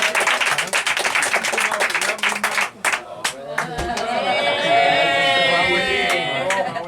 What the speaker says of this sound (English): Y'all give Malcolm a big round of applause